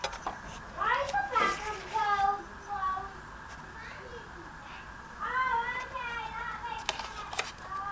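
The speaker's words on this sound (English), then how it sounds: "Sorry if you hear the neighbor kids playing." Neighbourhood children play outside at a distance, their shouts and high voices rising in short bursts under quieter indoor sounds.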